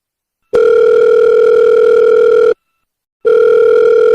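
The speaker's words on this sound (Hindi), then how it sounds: "ये फोन क्यों नहीं उठा रही है?" A telephone ringback tone sounds for an unanswered call, two long loud pulses separated by a short silence, clear and alone.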